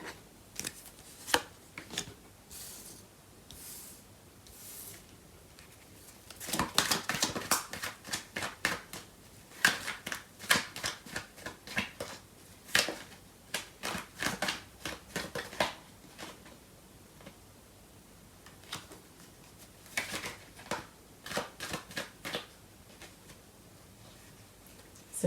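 Tarot cards shuffled and handled by hand, a run of quick papery riffles and slaps in uneven bursts, loudest through the middle, with pauses between and no talking.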